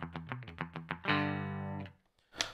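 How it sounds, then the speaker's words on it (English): Electric guitar on its bridge pickup with a clean tone, recorded through a Skate Fuzz pedal setup: a quick run of plucked notes, then a chord ringing out for about a second before fading, close and clear. "My bridge pickup sounds like this."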